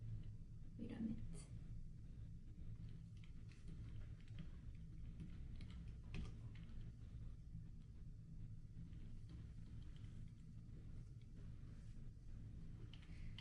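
Typing on a computer keyboard at a desk: faint, scattered key clicks in an uneven rhythm over a low steady rumble of room noise, with soft speech present.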